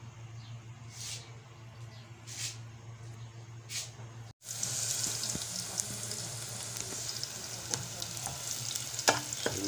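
Spices and garlic sautéing in a small casserole pot, a soft frying hiss with a few faint stirs at first, then a louder sizzle after a sudden break, dense crackling continuing close up.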